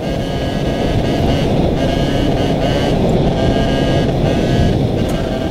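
Small two-stroke MBK Spirit moped engine and exhaust buzzing steadily while riding, loud and close with heavy wind rush over the microphone throughout.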